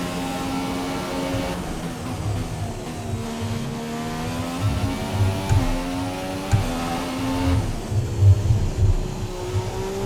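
A McLaren Honda Formula 1 car runs a flying qualifying lap in the F1 2017 video game, its high engine note climbing and dropping through gear changes, with rising revs and throttle lifts and no voices.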